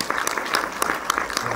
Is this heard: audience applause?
yes